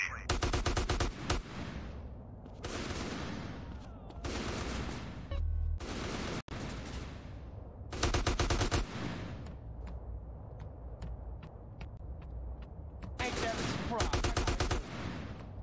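Gunfire in Grand Theft Auto: San Andreas during a military base shootout, repeated loud bursts of automatic fire in clusters with brief gaps, mixed with game sounds and occasional talk.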